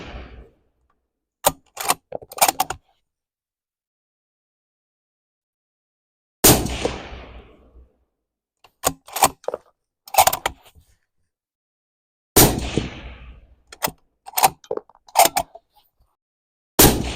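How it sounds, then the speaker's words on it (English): Rifle shots from .308 subsonic and 6mm GT loads during load development, a string of sharp, loud cracks in clusters separated by silence, several followed by short decaying echoes, with no talking. "Five shots."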